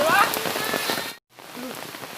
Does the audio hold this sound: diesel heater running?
no